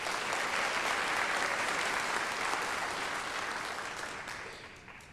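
A large audience applauds at a North Idaho College commencement ceremony, a dense, steady wash of clapping that holds strong and then gradually fades toward the end.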